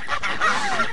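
An angry goose gives a short, harsh honk up close, one brief burst of agitated calling while attacking a cow.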